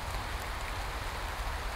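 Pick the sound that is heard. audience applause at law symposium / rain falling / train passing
rain falling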